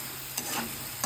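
Poppy seeds being stirred into fried potatoes in a pan, with faint sizzling and a few soft scraping strokes of a spoon against the pan over a steady frying hiss.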